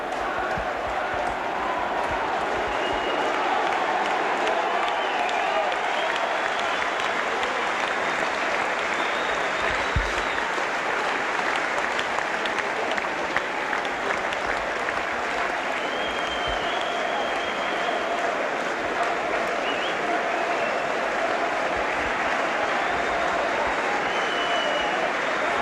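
Warrington rugby league supporters in the main stand at a championship final applauding their players, a sustained wash of crowd clapping with scattered cheers, steady and fairly loud throughout.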